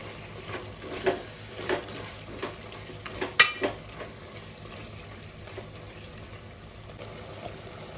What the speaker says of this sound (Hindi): और अभी हम ऐड करेंगे 3 कटे हुए टमाटर, और इसको मिक्स करेंगे थोड़ी देर